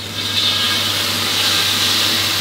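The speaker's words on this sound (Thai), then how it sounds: "พอกระทะเริ่มร้อนแล้วก็น้ำปลาครับฉาลงไปรอบๆกระทะได้เลยครับ" Loud, steady sizzling fills the whole clip, a dense hiss of fish sauce frying in a hot pan.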